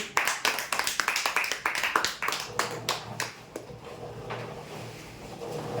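Applause for prize draw winners at a weekly draw event, a burst of dense clapping that thins out and fades after a few seconds.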